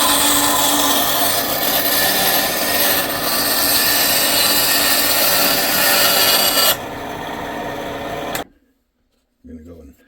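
A saw cuts scrap wood stock to size with loud, close, rasping strokes that run for several seconds, then stop abruptly, leaving quiet followed by a short knock.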